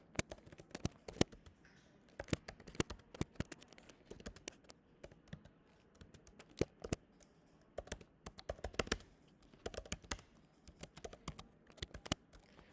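Quiet, close typing on a computer keyboard: irregular bursts of crisp key clicks with short pauses between runs.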